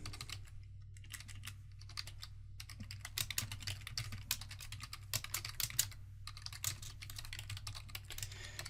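Fingers type on a computer keyboard while scripting for Roblox, a quiet close patter of clicky keystrokes in uneven bursts with short pauses between words.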